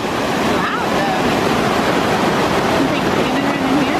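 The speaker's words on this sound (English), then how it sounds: "a lot of this noise is not even from the big old Nugget Falls yet. We've got some subsidiary waterfalls happening over here" Subsidiary waterfalls rush beside Nugget Falls near Mendenhall Glacier in Juneau, producing a steady, loud broadband roar of falling water that holds constant throughout, with some wind buffeting the microphone.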